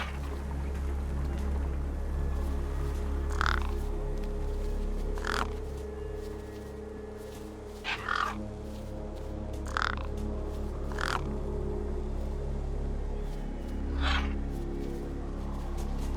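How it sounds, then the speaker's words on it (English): Crows caw over a corpse propped against a rock in the video game Beyond a Steel Sky: about six harsh, spaced calls ring out over a steady low ambient drone, with no speech. "No way I was going to get between those birds and their feast."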